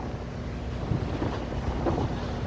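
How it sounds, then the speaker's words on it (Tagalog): A passenger boat leaving port on blue sea near the islands of Romblon, with steady engine rumble, water wash and wind buffeting the microphone throughout, no voices. "umalis na ang barko at ganoon pa rin ang aming smooth sailing"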